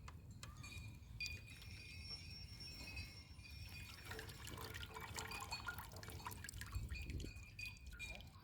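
Water drips and trickles steadily from a soaked cow dung cake as it is lifted out of a soaking container, a quiet run of close, irregular droplets over a low background hum.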